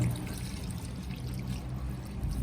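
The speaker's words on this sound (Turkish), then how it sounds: "Suları üzerine katacağız." Water poured from a bottle over food in a cooking pot, a soft continuous close-up trickle and splash lasting the whole moment.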